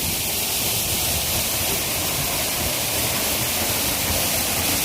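A waterfall at Raigad fort roars as a dense, steady rush of falling water, loud and close, with no voices over it.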